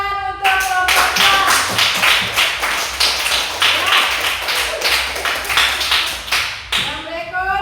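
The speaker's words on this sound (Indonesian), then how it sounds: "Ya, tepuk tangan untuk kelompoknya" A classroom claps for a student group after its presentation, a few people first and then a quick flurry of close hand claps. Voices can be heard briefly at the start and again at the end.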